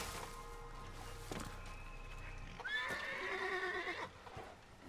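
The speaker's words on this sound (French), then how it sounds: "Mon cheval. Tu me laisses monter sur ton dos." A horse in the Assassin's Creed video game gives a loud, drawn-out neigh after some clip-clopping hoofbeats, with steady game ambience underneath and no talking.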